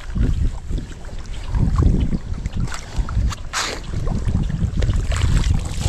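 Strong wind buffets the microphone in gusts over a rumbling background at a calamansi farm during watering, with water sloshing faintly nearby.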